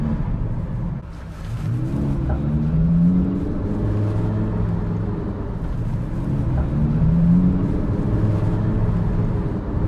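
A Lamborghini STO with a dual clutch gearbox rolls through town traffic, its engine a low, steady rumble that swells gently as it moves off and shifts, with no talking.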